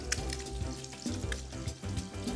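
Food pan-frying for a night-market dish, a dense steady sizzle and crackle of hot oil close by, with occasional soft clinks, no talking.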